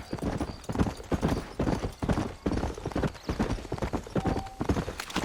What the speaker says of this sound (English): let's mount up and hit the trail